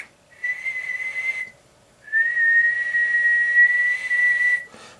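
Someone whistles a sustained high tone close to the microphone, a short note, a brief pause, then a longer held note.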